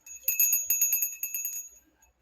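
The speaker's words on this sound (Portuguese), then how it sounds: "Esqueci de pegar o sino." A small hand bell rings in a rapid jingling series of bright metallic strikes for about a second and a half, then stops, with no talk over it.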